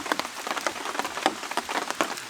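Heavy rain falls on a forest campsite at Deogyudae campground, with close, irregular drops pattering sharply on surfaces over a soft wash and no voices.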